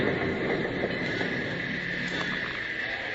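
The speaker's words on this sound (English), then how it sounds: "It was 4 days later when the train from St. Louis arrived at the Eagle's Nest station." Train arriving at a station in an old 1952 radio western drama, a steady loud rumble and hiss of rolling cars with high squealing tones, continuous and near.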